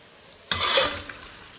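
Chicken with turmeric, salt and chili powder hits a pan of frying ginger, garlic, cumin, green chilies, onions and curry leaves, bursting into a loud close sizzle that slowly settles into steady frying, with a small clink of stirring.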